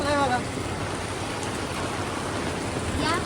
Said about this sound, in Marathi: इकडे पाऊस चालू आहे आणि एवढा फुल पाऊस चालू आहे